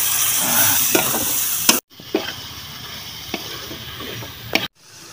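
Duck and chicken meat sizzles loudly in a pan with turmeric, salt and dried red chilies, a steady hiss broken by a few sharp utensil clinks and scrapes, with a brief silent cut midway.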